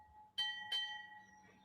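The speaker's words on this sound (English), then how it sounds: "Punctuated by the tolling of a Navy bell." A Navy bell tolls twice at a memorial for those killed, two clear metallic strikes in close succession with a ringing tone that fades out, quiet and unaccompanied by talk.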